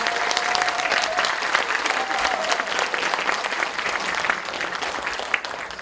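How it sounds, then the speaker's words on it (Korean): A lecture audience gathered for poet Na Tae-ju claps steadily in warm, continuous applause, moderately loud and even from start to finish. "큰 박수로 환영해 주시기 바랍니다"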